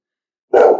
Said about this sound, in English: our dog wants to bark at them